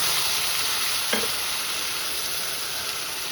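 Ground onion and tomato paste frying for kurma, giving a loud, steady close sizzle with one brief utensil knock partway through and no talking.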